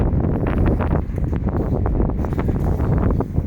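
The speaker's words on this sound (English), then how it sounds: "It's extremely windy." Strong wind buffets the microphone on an outdoor street walk, a loud, continuous roaring rumble with gusty swells and no talking.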